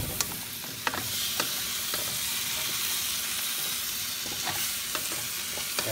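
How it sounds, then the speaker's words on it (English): Squash sizzles steadily in a hot pan for a crab and coconut milk dish, with a loud, continuous fry close by and occasional clicks and scrapes of a utensil stirring it. "Let's give it a stir."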